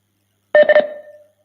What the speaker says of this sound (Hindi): सुधांशु फोन करो।